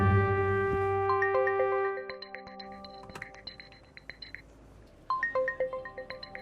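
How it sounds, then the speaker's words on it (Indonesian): An incoming call sets a telephone ringing with a melodic electronic ringtone: repeated bright stepped tones, clear and fairly close, following a brief sustained drone, with short pauses between bursts of the tune. "ada telepon dari kantor"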